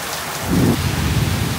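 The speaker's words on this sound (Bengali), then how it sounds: "এত বজ্রপাত এত স্বল্প সময়ের ভিতরে এর আগে দেখি নাই" Heavy rain pours during a thunderstorm as a low thunder rumble rolls in and swells briefly over the constant loud hiss of rain, with no voices.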